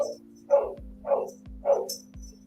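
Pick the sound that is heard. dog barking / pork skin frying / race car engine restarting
dog barking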